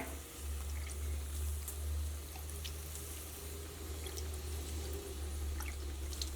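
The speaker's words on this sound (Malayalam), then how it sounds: "അപ്പോൾ ഇനി വെള്ളം തെളിക്കട്ടെ" Water sprinkled into a cooking pan of ridge gourd stir-fry splashes and trickles in a steady wash of sound, with a low constant hum underneath and faint scattered clicks.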